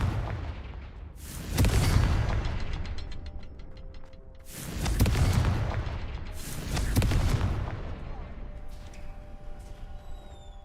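Confringo fire spell blasts in the video game Hogwarts Legacy: three heavy booming explosions with rumbling tails, spaced a few seconds apart, loud and close over faint game sounds.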